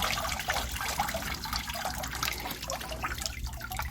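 Maple sap running out of a wet line in a sugaring tubing system, a steady watery trickle and gush that stays continuous and fairly close throughout, with no voices.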